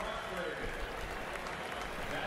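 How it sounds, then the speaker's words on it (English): A crowd at the Indy 500 motor race roars as a soft, continuous wash of cheering and applause that stays fairly distant and low in level, with a voice speaking over it. "Listen to the roar of the crowd for the Spider-Man."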